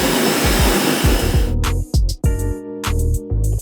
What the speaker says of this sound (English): we have our pressure washer